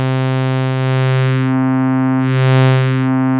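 A Genki Katla synthesizer holds a steady, loud tone with distortion drive, its thick harmonic buzz slowly swelling and shifting in brightness as the wave shape changes, with no talking.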